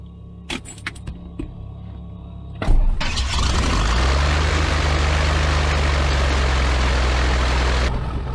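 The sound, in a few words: Piper Cherokee 235 aircraft engine starting and idling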